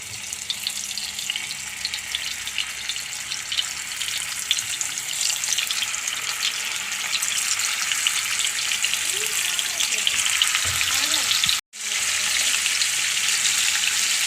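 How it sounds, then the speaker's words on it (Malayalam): Fish frying in a hot pan of oil, a steady close sizzle and crackle running throughout, with a brief dropout near the end. "മീനെടുത്ത് വറുക്കാൻ"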